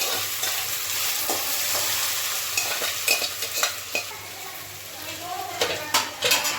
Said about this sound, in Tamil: வெண்டைக்காயை வெட்டி வதக்கி வச்சு வதக்கி வச்சு